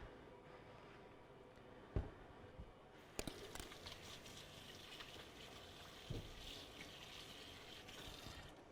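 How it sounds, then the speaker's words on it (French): Kitchen tap water runs steadily while greasy hands are rinsed, a faint continuous hiss and splash with a few small knocks, low in level and without speech. "Je vais juste me rincer les mains parce que c'est gras."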